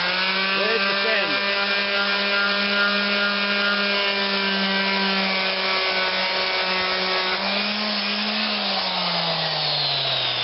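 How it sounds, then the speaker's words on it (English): A power sander runs steadily on a board in a workshop, a loud continuous motor whine with strong harmonics that holds throughout and drops slightly in pitch near the end. "So I would mark it again and proceed with the sander."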